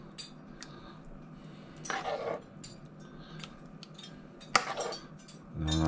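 A spoon scoops homemade rum barbecue sauce onto slow-cooked Jamaican goat, giving a few faint clinks and scrapes against a dish that come in short, scattered bursts in a quiet kitchen.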